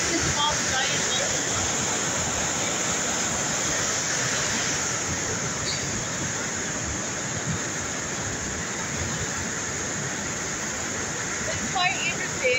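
A waterfall cascades down giant boulders at the Avenue of the Boulders along a creek, a steady, dense rushing roar that holds evenly from start to finish at close range.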